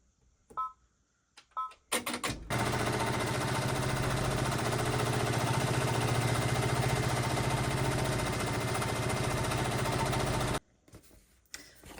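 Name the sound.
embroidery machine stitching a quilted baby bib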